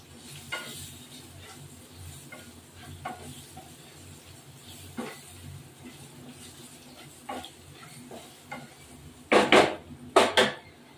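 Soft sizzling of hilsa fish frying in a pan for a hilsa and potato curry, with scattered scrapes of stirring, ending in a few louder clanks of a utensil against the pan.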